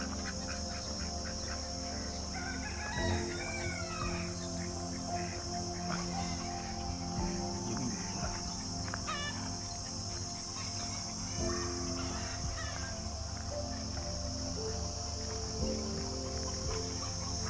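Ducks, chickens, turkeys and other farm fowl on a farm, quacking and clucking in scattered calls at moderate distance over a steady drone of crickets and insects.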